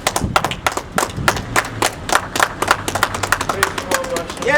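A congregation clapping in quick, uneven bursts of sharp claps with some thuds, close and fairly loud, while voices speak over it.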